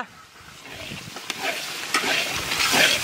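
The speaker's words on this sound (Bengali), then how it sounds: "বিনস অনেকটা ভাজা হয়ে গেছে" Green beans stir-fry in a hot pan with a steady, bright sizzle and the scrape of a spatula turning them. The sound is close and continuous, with no talking.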